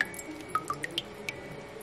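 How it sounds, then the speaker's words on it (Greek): Drops of white vinegar falling into a bowl of clear water, about half a dozen small distinct plinks at irregular intervals, close and quiet, with no talking. "λίγες σταγόνες από λευκό ξύδι."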